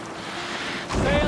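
Viking longship under sail at sea in Assassin's Creed Valhalla, soft wind and water wash that swells into a louder surge of waves near the end, with a voice briefly heard.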